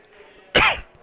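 A single sharp cough bursts out in a quiet room during a high-stakes 9-ball pool match, loud and close, lasting about a quarter second before fading back to faint background hum.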